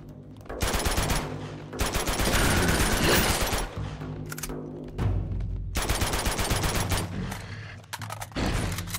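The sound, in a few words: gunfire in video game Uncharted 2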